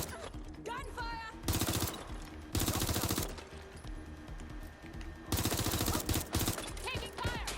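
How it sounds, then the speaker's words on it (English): Heavy automatic gunfire in the game Watch Dogs: Legion erupts in loud bursts, with shouted voices and game sound effects between the volleys. "Gunfire!"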